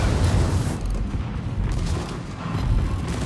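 A heavy, rumbling explosion in World of Warships as an enemy battleship is destroyed, a dense low roar that fills the whole moment and fades slightly, with no speech over it.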